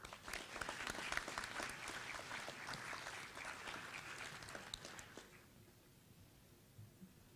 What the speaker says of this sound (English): Please welcome him on stage with a warm round of applause